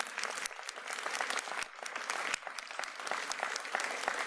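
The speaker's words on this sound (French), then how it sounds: "on peut les applaudir." Audience at a French municipal New Year's greetings ceremony applauds the town's municipal staff, a dense, steady patter of many hands clapping for several seconds at moderate volume, with no voices over it.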